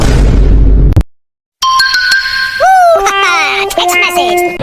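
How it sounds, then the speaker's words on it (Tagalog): A text message notification tone plays as a bright electronic chime with rising and falling tonal notes, loud and close, after a sharp cut from an earlier noisy passage. "Text message."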